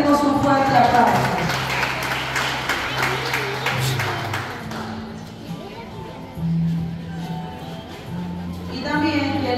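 Guests at a graduation ceremony are applauded by the audience: a burst of crowd clapping that thins out over a few seconds, mixed with murmuring voices and a loud hum from the sound system.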